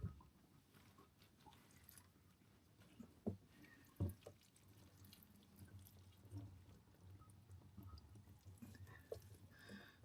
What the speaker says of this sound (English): I'm actually hearing water dripping down